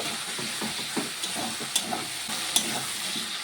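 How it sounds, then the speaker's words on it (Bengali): Fried potatoes stirred into an oily spice paste for a prawn curry with taro, giving a continuous sizzle broken by repeated soft scraping strokes and a few brighter clinks of the utensil. "এখন ভেজে রাখা আলুটি দিয়ে দেব। আলুটিকে দিয়েও একটু রান্না করে নেব।"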